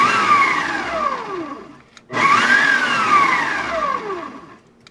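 A Farberware stand mixer run in two pulse bursts, each a loud whirring motor that spins up and winds down with a falling whine, separated by a brief silence, close by with no talk.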